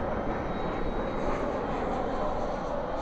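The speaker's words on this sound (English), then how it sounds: "when the MD-11 begins its roll, I'll have to pan over to it" An MD-11 jet starts its takeoff roll at DFW airport at night, a steady, loud broadband engine roar that holds evenly throughout from a moderate distance.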